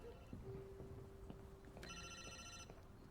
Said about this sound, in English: The phone is ringing, boy.